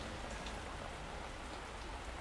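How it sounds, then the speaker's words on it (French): Steady rainfall outdoors in Brittany, a continuous dense hiss of drops striking surfaces nearby, even in loudness throughout. "Il pleut."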